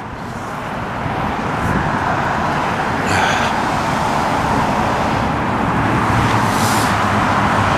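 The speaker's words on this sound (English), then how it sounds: "Boring fucking cars." Steady roadway traffic along Riverside Drive in St-Lambert, Quebec, with cars passing in a continuous broadband wash that builds slightly after the first second, plus brief hissy swells like tyres going by, no talking.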